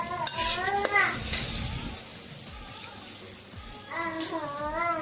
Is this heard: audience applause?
no